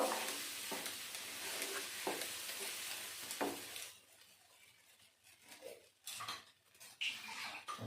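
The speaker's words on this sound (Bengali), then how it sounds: "স্বাদ মতো লবণ পরিমাণ মতো হলুদ গুঁড়ো দিয়ে ভালো করে নেড়ে চেড়ে নেব" Spoon stirs and scrapes giant taro (maan kochu) mash with salt and turmeric in a pan, a busy clattering scrape through the first half that then drops to softer, sparser stirring with occasional clinks.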